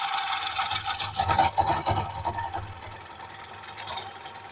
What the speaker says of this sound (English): I like using this bowl gouge.